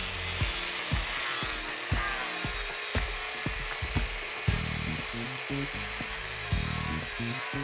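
A ceramic fibre disc on a grinder levels a stainless steel weld flush with the parent material, a steady high grinding whine with irregular knocks and scraping pulses throughout, close and continuous.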